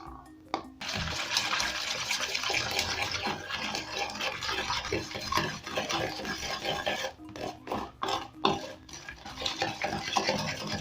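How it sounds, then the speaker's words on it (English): Carrot cake batter ingredients are stirred by hand in a bowl with a utensil. A steady, close, wet mixing and scraping sound continues with brief pauses, and no one speaks. "Then I'm going to mix till the 2 ingredients are well combined to form one consistency."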